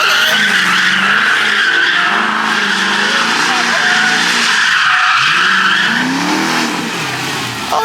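A new Ford Mustang spins its tires on a city street, a loud sustained screech of skidding rubber over a roaring engine, heard close with voices talking over it.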